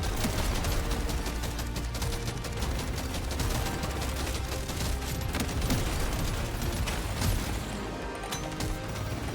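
Rapid, continuous automatic gunfire from the video game Deep Rock Galactic Survivor, a steady dense rattle of shots with mechanical clatter running for several seconds without talk.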